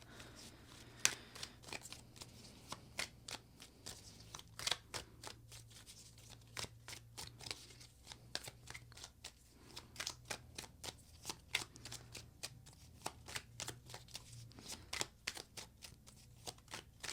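Tarot cards are shuffled by hand in quick, crisp riffling bursts and soft flicks that repeat irregularly throughout, close and fairly quiet against a faint hum, with no speech.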